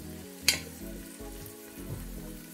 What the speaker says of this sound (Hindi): इसको हल्का सा भून लेना।